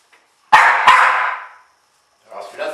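A dog gives two sharp, loud barks close by that trail off, followed by a brief softer sound after a pause.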